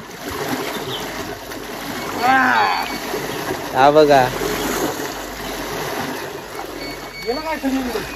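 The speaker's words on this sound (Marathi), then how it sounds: "बघ अख्खा पूर्ण पाणी हलवून टाकता" Fishermen churning the water of a shallow pond in a traditional Konkan fishing method to drive out fish: bursts of splashing and sloshing, strongest near the middle, under lively nearby talk.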